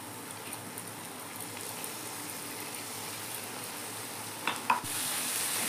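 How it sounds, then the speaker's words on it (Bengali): Ginger and garlic fry with browned onions in a hot pan, a soft continuous sizzle with a couple of stirring clatters toward the end and a brighter hiss as it closes. "আদা রসুনটা ভাজি নেবো পেঁয়াজের সাথে"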